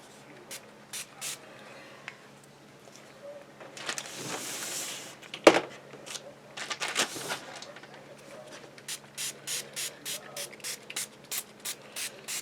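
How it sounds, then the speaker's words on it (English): Pink spray paint hisses from an aerosol can onto woven burlap in a few short bursts, close and fairly quiet, followed by rapid rhythmic rattling and light handling noises. "Let's spray a pink to see what happens here."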